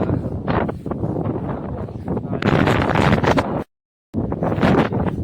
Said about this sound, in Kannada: ಗಾಳಿ ಭಾಳ ಇದೆ ಗಾಯ್ಸ್, ಸಿಕ್ಕಾಪಟ್ಟೆ ಗಾಳಿ